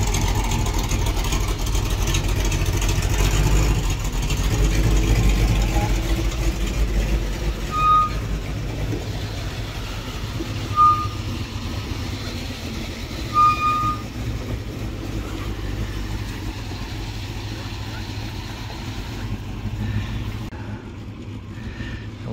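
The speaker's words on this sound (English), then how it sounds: "So that was the engine, and this is us testing the brakes." A Land Rover 101 Forward Control being driven during a brake test, its engine a steady low rumble throughout with a few brief squeaky tones rising above it, ending in a quieter tail as the vehicle settles.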